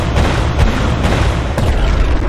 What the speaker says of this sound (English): I added sounds for the charging and the explosion.